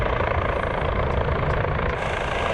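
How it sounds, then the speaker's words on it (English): A helicopter arriving for an emergency airlift at an off-road RZR camp, its heavy rotor thump and engine roar filling the scene, loud and steady throughout, with no voices. "We've got a helicopter coming in here now."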